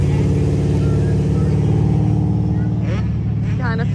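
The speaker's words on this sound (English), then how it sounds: "we got Mike driving Coop's car this round" Car on a track heard from inside, its engine droning steadily and loudly, with people talking over it toward the end.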